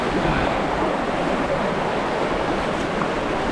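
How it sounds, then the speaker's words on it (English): Steady, loud broadband rush of river water around someone wading through a river near Tumpak Sewu Waterfall in Indonesia, a continuous roar with no breaks and no clear footsteps standing out. "walking through a river now"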